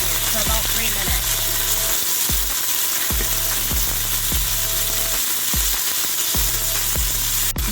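Peppers and onions sizzle and fry steadily in a pot, loud and close, with rhythmic stirring scrapes and clunks punctuating the hiss throughout.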